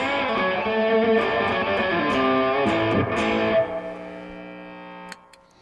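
Gordon Smith GS1 60 electric guitar with a P90 pickup played through distortion, sustained driven chords and notes ringing out loudly before a change and gradual decay.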